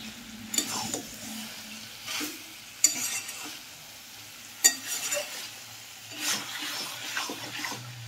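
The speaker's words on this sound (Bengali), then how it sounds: "এইভাবে হালকা আঁচে বেশ কিছুক্ষণ কষাবো।" Chicken curry with new potatoes is stirred in a pan over low heat, giving soft sizzling under scattered scraping spoon strokes and clinks that come in irregular bursts, with no one talking.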